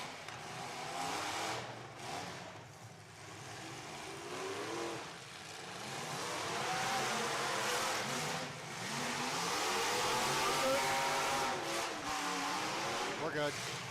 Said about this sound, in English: Car noise.